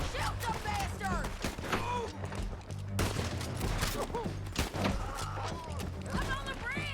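Video game gunfire crackles in scattered bursts and single shots amid shouting voices and chaotic combat noise, close and busy throughout, with talk running over much of it.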